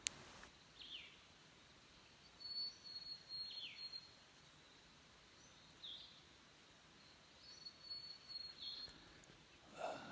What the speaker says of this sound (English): Listen to that bird.